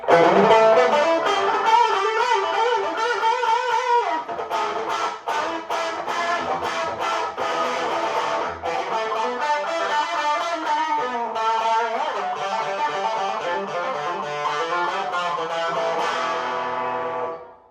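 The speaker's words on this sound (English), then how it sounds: "it actually has a pretty decent sound when we're running the distortion as a light gain kind of booster" An Epiphone Electar-10 electric guitar with mild overdrive from light distortion plays a run of strummed chords and picked notes, loud and close, ringing out at the end.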